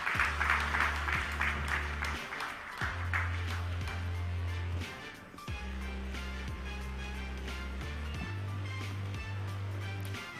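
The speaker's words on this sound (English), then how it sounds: "So let's have a huge round of applause for all the speakers." Audience applause for conference speakers at a healthcare technology event, a moderate, steady patter of clapping under a continuous low rumble and a faint background voice.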